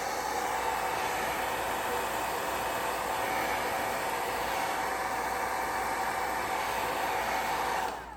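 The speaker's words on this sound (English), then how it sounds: "I have my little blow dryer to try to dry" A small blow dryer drying an art journal page whirs continuously with a loud, steady airy hum and hiss, then cuts off at the very end.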